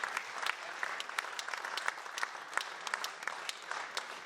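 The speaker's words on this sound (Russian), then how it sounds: "Аплодисменты Юрию Викторовичу." Sustained applause from an audience at a centenary literary evening in a writers' hall, steady dense clapping with scattered sharper claps, continuing throughout at moderate distance.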